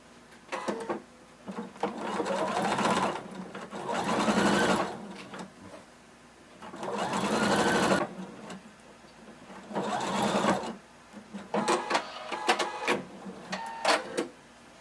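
A sewing machine stitches a 5/8-inch seam on a fringe kimono, running in several steady whirring bursts of a few seconds each with pauses between, the final burst broken into short stop-start runs for backstitching.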